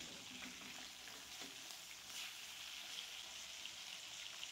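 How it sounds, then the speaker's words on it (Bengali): Silver carp fries in hot oil in a pan, giving a faint, steady sizzle with light crackles and spits scattered through it, close by and with no talk. "দেখুন মাছটার 1 পিঠ ভালোভাবে ভাজা হয়ে গেছে।"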